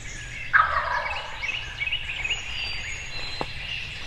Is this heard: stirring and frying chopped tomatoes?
no